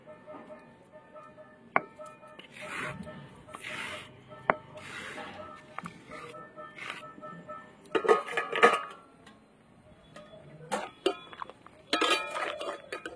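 Pointed gourd is cut into large pieces for fritters in a home kitchen, with irregular knife taps and clinks of utensils and dishes, some loud close knocks and softer rustling between them.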